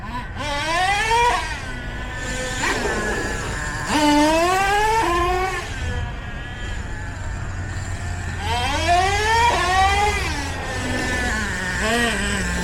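A Traxxas T-Maxx 3.3 nitro RC truck engine screams and revs repeatedly, small and high-pitched, rising and falling in sharp bursts, close by and loud.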